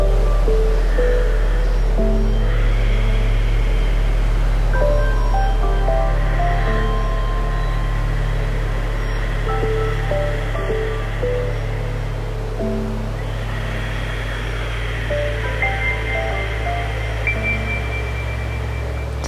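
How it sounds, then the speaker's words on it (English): Slow, deep ujjayi breathing during a yoga detox class, a soft oceanic hiss drawn through the back of the throat in long, rising and falling swells, with gentle background music. "listening to the sound of the breath at the back of the throat, sound of the ocean"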